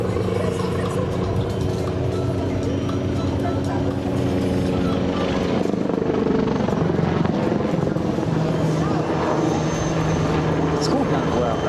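A Eurocopter EC665 Tigre attack helicopter flies a display at a centenary ceremony in Hyères, its loud rotor and turbine roar filling the air continuously, swelling as it passes, with crowd noise and voices underneath.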